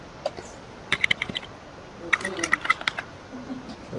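Keys clatter on a computer keyboard at a pharmacy software station in two short bursts of quick, crisp taps separated by a pause, close and moderately loud.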